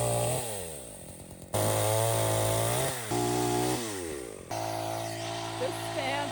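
A chainsaw cuts through wood for firewood, loud and close, its engine revving up and dropping back in bursts as the blade bites and eases, with a person speaking briefly near the end.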